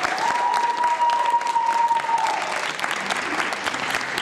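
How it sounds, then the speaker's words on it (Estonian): An audience applauds the jury members at a school theatre festival awards ceremony in Jõhvi, Ida-Virumaa, with dense, steady clapping throughout and a faint sustained tone in the first half. "Teeme suure aplausi meie tänastele žüri liikmetele ja Katariina Novosjorovale."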